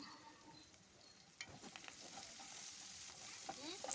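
Onions fry with turmeric in a pan for a home-style drumstick and milk curry, a faint, steady sizzle with a few soft scraping stirs and no talking.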